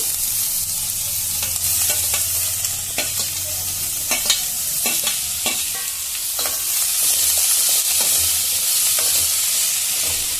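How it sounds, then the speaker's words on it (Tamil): Onion, green chili, garlic and curry leaves sauté in hot oil for a goat spleen fry: a constant close sizzle broken by frequent sharp scrapes and taps of a spatula, with no talking. "இதை நல்லா வதக்கிக்கலாம் வெங்காயம் வதங்கினதும் தக்காளி ஆட் பண்ணிக்கலாங்க"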